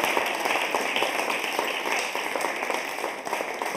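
A church congregation claps and cheers in praise during a worship service, a dense, steady patter of many hands with raised voices blended in, continuous and fairly loud for the whole stretch.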